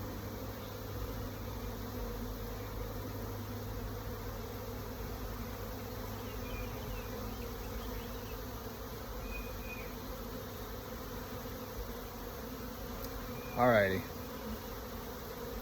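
A bee swarm drones in a continuous buzz that fills the air around the listener. Near the end, a person briefly says a word over it.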